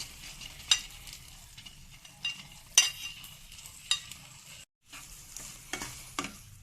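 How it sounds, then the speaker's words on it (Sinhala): A spoon scrapes and stirs broken steamed hoppers with grated coconut in a pan, giving quiet scratchy strokes and clinks at irregular intervals over a faint sizzle, close by, with a brief gap of silence. "ඉන්දියාප්ප වල තියෙන තෙත ගතිය අයින් වෙන්න හොඳින් මේ විදිහට හැඳි ගා ගන්න"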